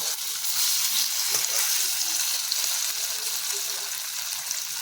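Fish frying in oil in a pan for a vegetarian-style fish recipe, a steady, loud, close hiss of sizzling that runs unbroken throughout with no talk.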